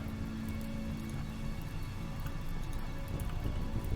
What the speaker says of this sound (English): we're standing in rain